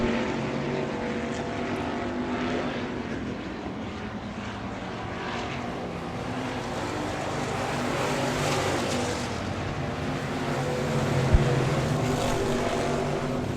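Dirt track race cars roaring around Victory Lane Speedway in Manitoba, Canada, a steady distant engine drone that blends into one continuous roar, with no talking over it.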